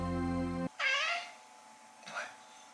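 A house cat gives two meows, the first clear and drawn out and the second fainter, following a short electronic tone.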